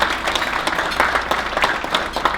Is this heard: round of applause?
yes